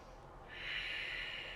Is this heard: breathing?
yes